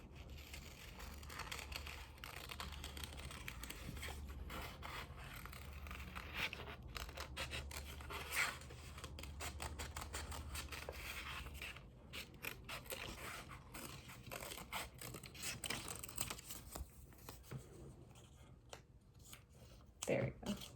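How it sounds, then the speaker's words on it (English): Paper being cut with scissors for a cactus craft, a steady run of close crisp snips and rustling throughout, with a faint voice now and then. "We have one more to cut out."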